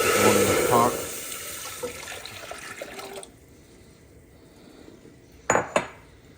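Water pours into a cooking pot being filled to four cups for rice, a loud rushing splash up front that gives way to quieter clatter, then two sharp metallic knocks of the pot near the end.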